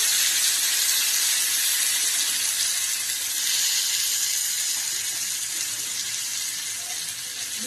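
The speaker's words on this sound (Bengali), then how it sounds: "তো আমার দিদি এখন মাছ ভাজছে" Fish frying in hot oil in a pan on a cold day, a loud, steady, close hissing sizzle that runs unbroken throughout with no talk over it.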